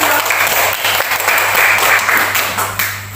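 A classroom group receives applause after presenting, dense clapping from many hands sustained throughout, close and loud with a steady low hum beneath.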